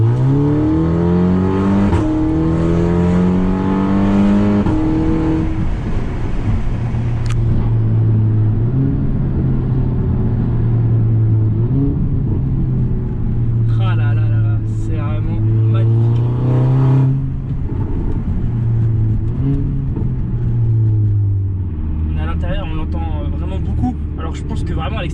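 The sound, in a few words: car engine revving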